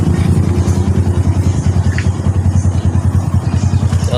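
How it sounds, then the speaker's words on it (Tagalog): A motorcycle-powered tricycle engine idles close by with a fast, even put-put throb and a rattling beat that continues unbroken from start to finish, no one speaking. "patayin ko muna yung makina, mga gulay"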